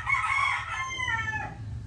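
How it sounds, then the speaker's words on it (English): A rooster in the Philippines crows once, loud and close, its drawn-out call falling in pitch over nearly two seconds against a low background rumble, with no talk. "Oh, chicken."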